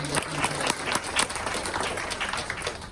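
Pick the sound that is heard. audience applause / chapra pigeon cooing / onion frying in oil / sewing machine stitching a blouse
audience applause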